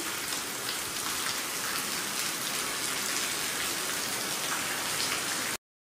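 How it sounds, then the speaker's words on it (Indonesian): Steady rain pours down continuously in a hot, oil-rich region of Sumatra, a dense hiss of drops on surfaces that stays even and loud throughout before cutting off abruptly near the end. "Cuman Alhamdulillah ini hujan, berkah banget."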